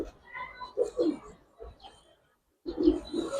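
Pigeon cooing from a female racing pigeon, a few soft low coos in two bursts separated by a short silence, close and moderately quiet.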